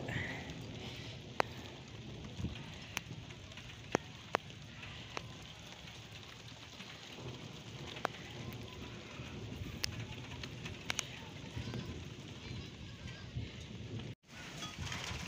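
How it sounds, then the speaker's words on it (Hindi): Cold, steady rain falls in Chattroh, a dense even patter with occasional sharper drips and taps standing out, continuing throughout. "जिसकी बारिश होने लगी"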